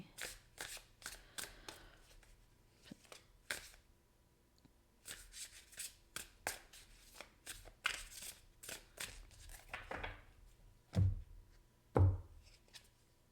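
Tarot cards shuffled and cut by hand, heard as repeated close riffling bursts and soft flicks in an uneven rhythm, quiet overall, with a couple of louder taps near the end and no talk.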